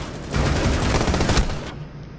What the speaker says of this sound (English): Covering, suppressing fire.